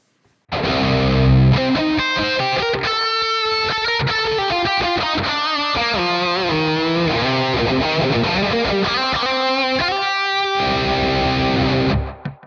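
Electric guitar through a Mooer mini-modeller with distortion and an eighth-note tapped delay, a continuous melodic line with repeating echoes ringing out loud and alone for about eleven seconds before cutting off.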